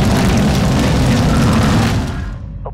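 A missile detonates in the video game Modern Warfare II, a loud sustained rumbling boom that holds for about two seconds and then trails off.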